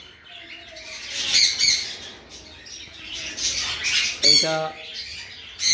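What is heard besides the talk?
blue-crowned conure parrots squawking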